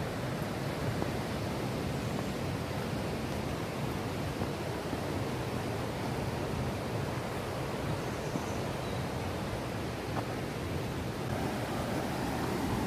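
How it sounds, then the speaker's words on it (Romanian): Rushing water of the Ropote waterfall near Poiana Mărului in Caraş-Severin, a steady broadband roar that holds unbroken and fairly loud throughout, with no voices over it. "Și ne apropiem de cascada Ropote."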